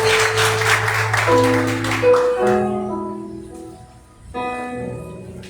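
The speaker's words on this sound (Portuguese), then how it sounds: "aplaudindo mais uma vez o nome do Senhor" A church congregation applauds during a revival service, a dense wash of clapping over sustained keyboard chords that fades after a couple of seconds, leaving the held chords ringing on alone.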